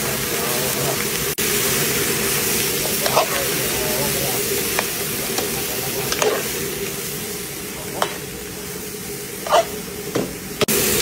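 Fresh vegetables sizzle in a hot pan, a steady hiss of frying with occasional stirring clinks and scrapes scattered throughout.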